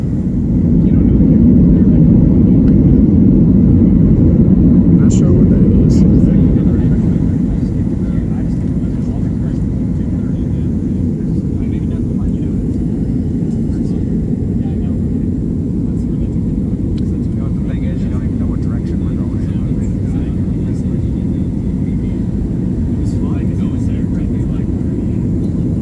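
A small propeller airplane lifting off from a bumpy runway and climbing, its steady loud engine drone swelling in the first seconds and then holding even and close throughout, with no talk heard.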